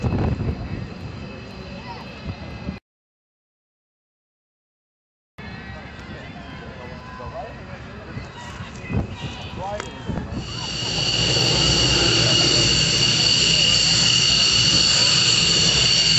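F-15E Strike Eagle jet at an air show, engine roar heard under an announcer's commentary, cutting out briefly, then rising into a loud, sustained jet rumble and whine toward the end.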